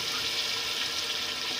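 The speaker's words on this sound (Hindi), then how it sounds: "अब हम इसमें 4 गिलास पानी ऐड करेंगे।" Water poured steadily into a cooking pot while making white chana pulao with potatoes, a continuous close, even splashing hiss with no talk.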